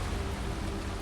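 Rain in the video game Baldur's Gate 3 makes a steady, soft wash of falling-water noise, even and unbroken for the whole moment, with no voices.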